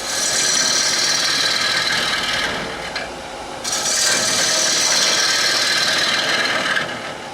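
A wooden bowl being rough-turned on a lathe, the tool held horizontal and cutting with the blade alone, gives a loud, steady rasping scrape that dips briefly midway and then resumes, with no talk.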